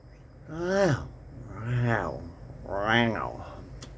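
A man gives three drawn-out voiced yawning groans, close and moderately quiet, his voice imitating an old tiger waking up and yawning.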